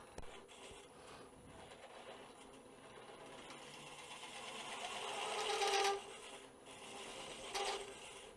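Wood lathe spinning at 500 RPM while a Woodcut Tools Pro Forme Flexi hollowing cutter sweeps back and forth inside the piece: a steady mechanical whir and hiss that swells louder around the middle and again near the end.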